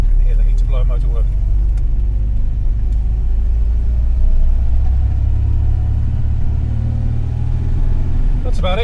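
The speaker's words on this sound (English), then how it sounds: "You can hear the heater blower motor working." A steady low whir of a 1966 MGB GT's heater blower motor running inside the moving car, under road rumble, with a voice speaking over it.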